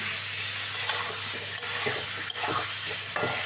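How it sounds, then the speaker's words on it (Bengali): Chicken pieces fry in a pan for a Bengali chicken kosha, a steady, close sizzle with occasional stirring scrapes and clinks rising above it. "মাংসটা করার জন্য প্রথমে মাংসটাকে অল্প একটুখানি ভেজে নিচ্ছি"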